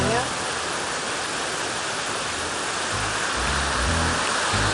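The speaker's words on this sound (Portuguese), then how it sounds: "cachoeira tá cheia, como vocês podem ver. É a força das águas" A waterfall in full flood pours heavy rushing water in a loud, constant broadband roar, with a voice briefly audible over it near the end.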